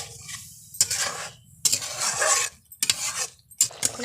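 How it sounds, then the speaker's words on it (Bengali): Coconut milk poured bit by bit into spice paste in a pan and stirred, giving bursts of scraping and sizzling with short pauses between strokes, close and fairly quiet. "এখন আমি দিয়ে দেবো নারকেলের দুধ। একটু একটু করে দিয়ে কষবো মশলাটাকে।"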